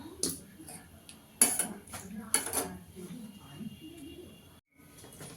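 Spoon scraping and clinking against a pot while ghee is mixed into fried onions for kacchi biryani, several sharp metallic knocks in an irregular rhythm, close and moderately loud, with a soft background hiss.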